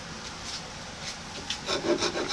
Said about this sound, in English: So I'm going to cut my waste off here and here and break out a rasp.